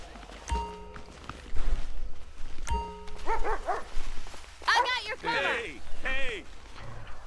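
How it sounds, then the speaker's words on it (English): A police dog in the LSPDFR game barks in repeated sharp bursts, close and loud, mixed with voices talking and brief running or scuffling sounds. "Get the dog out."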